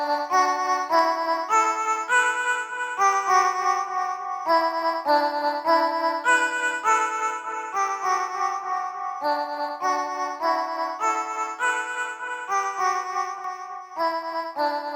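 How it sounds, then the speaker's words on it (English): A bright synth melody of sustained, stepping notes with echoing repeats filling the gaps, steady and continuous with no voices. "I'm gonna add a delay to fill in some of the empty space."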